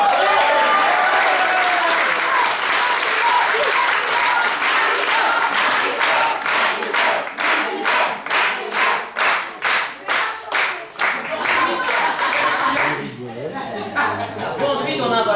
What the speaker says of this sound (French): On peut quand même faire un tonnerre d'applaudissements pour Marie Rose qui nous a fait un décor.